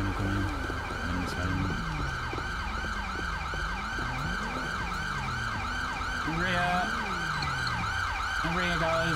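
Wailing ambulance siren in the police-mod game LSPDFR for GTA, rising and falling in quick regular sweeps, loud and close, layered with a second siren pattern and low vehicle hum.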